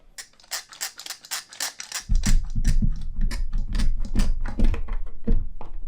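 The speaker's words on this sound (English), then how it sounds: "to do this, I've found it best to clamp this to the bench" A wooden side piece for a Vauxhall Vivaro camper van conversion is clamped to a workbench, heard as a rapid series of close ratcheting clicks, then a heavier rumbling knock and creak as the clamp tightens.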